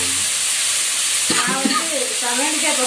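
Potatoes frying in a pan give a continuous close sizzle, with a brief clatter partway through and some faint background voices or tones.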